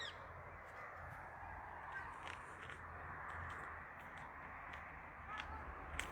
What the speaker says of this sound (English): see, there's one of the parrots